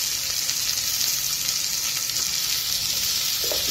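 Tomatoes and turmeric fry in a pan, giving a steady, close sizzling hiss that holds evenly throughout with a slight stir near the end.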